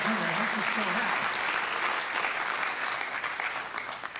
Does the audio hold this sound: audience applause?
yes